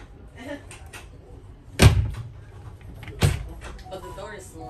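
Bathroom door of an RV on display at a 2023 RV show in Houston, giving two distinct thuds or latch clicks about a second and a half apart, with people talking quietly around it.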